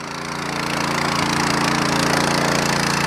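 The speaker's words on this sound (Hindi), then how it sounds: "मशीन पे लोड नहीं है, अपने नॉर्मल आरपीएम पे इतने प्यारी चल रही है देखो।" A Sraja power weeder engine runs unloaded at normal rpm, a loud, close, steady rapid putter with a rhythmic engine pulse that swells slightly at the start and then holds even.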